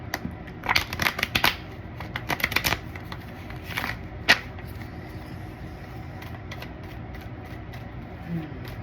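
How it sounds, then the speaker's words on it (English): Tarot cards are riffled and shuffled in quick bursts of crisp flapping, close by, then quieter handling and faint background noise. "as I'm shuffling the cards"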